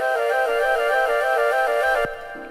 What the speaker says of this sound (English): The flutes, however, though, are actually real.